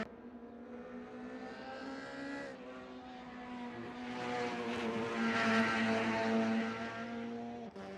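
A racing car engine on a pre-season testing day climbs a hill and crests toward a braking zone, a steady, tonal high-revving drone that swells louder mid-pass before easing slightly, heard alone without voices.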